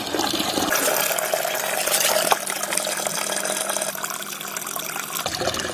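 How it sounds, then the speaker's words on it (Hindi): Water gushes steadily into a container while a liquid fertilizer is mixed for adenium plants, a loud continuous pouring and filling sound with no speech. "तो इतना पानी इसके अंदर हम भर देते हैं।"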